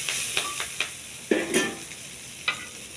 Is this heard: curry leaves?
yes